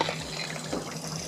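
Water rushes from an outdoor hose bibb just after the supply valves are slowly opened following a hose bibb replacement, a steady close hiss and splash lasting about a second.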